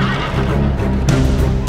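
Cavalry horse neighing during a strategy video game battle, a loud, close whinny that rises and wavers over the whole moment, with a faint clatter of battle noise beneath it.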